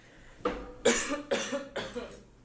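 Three or four harsh coughs in a row, fairly close and moderately loud, with brief pauses between them.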